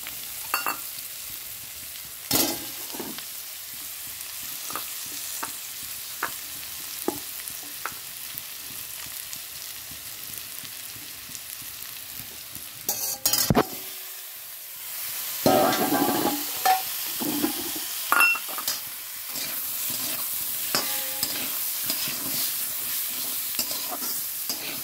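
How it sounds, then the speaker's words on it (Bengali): Onions and potatoes frying in a pan and being stirred, a soft continuous sizzle under repeated scraping strokes and clacks of the spatula, louder bursts of hissing near the middle and end, and no one speaking. "পেঁয়াজগুলো দিয়ে দিচ্ছি এখানে, দেখো আলু দিয়ে দেবো এর মধ্যে।"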